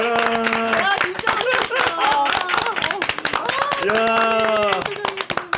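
Rapid hand clapping mixed with excited talking voices, sounding up close in a room as people react to the impeachment verdict removing President Yoon Suk-yeol from office.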